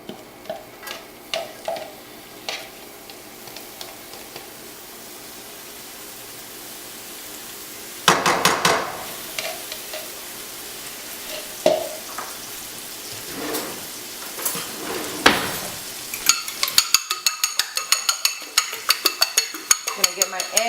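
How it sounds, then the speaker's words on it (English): Garlic and onion sauté in a hot pan for a zucchini burrito filling, giving a soft crackling sizzle broken by stirring scrapes and clinks, close by, with a brighter burst of frying toward the end. "we're going to add our garlic and onion. Let it saute a little bit."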